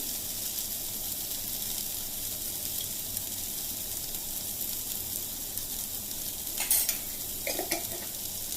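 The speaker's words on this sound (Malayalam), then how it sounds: "ഉപ്പ് ചേർത്തിട്ട് നല്ലപോലെ ഒന്ന് വഴറ്റിയെടുക്കാം." Onions sauté with salt in a pan for black chickpea curry, giving a steady, soft sizzle throughout, with a few spoon scrapes and clinks near the end.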